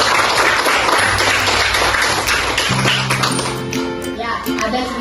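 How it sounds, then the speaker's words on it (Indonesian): Children clapping in a classroom during a lesson on short stories, a burst of applause that fades into a voice speaking with low, steady tones underneath. "Tepuk tangan untuk Syahana."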